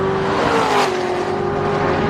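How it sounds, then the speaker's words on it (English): A Chevrolet Corvette Z06 with a 650-horsepower engine, seven-speed manual gearbox and Z07 aero package at about 140 mph on a racetrack, heard as a sustained, loud engine drone with a rush of wind and road noise. "Crossing 140 at the start-finish line."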